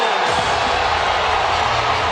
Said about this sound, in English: these guys are going to get a pretty good round of applause when it ends